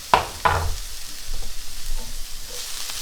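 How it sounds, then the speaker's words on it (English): Garlic thrown into a hot pan lands with two quick, sharp impacts, then settles into a soft, low sizzle under faint stirring that fades toward the end. "now I'm going to throw the garlic in"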